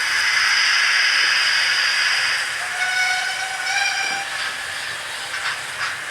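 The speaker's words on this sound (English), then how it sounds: "I'll try and do a whistle." A Fowler 4F steam locomotive sounds its whistle, a loud sustained shrill tone over hissing steam, dropping in pitch and wavering before it fades out near the end.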